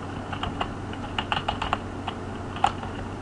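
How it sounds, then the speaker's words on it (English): Keys clatter on a computer keyboard in irregular quick taps and short clusters, close and moderately quiet over a low background hum, with no talking. "Helps if I can type today."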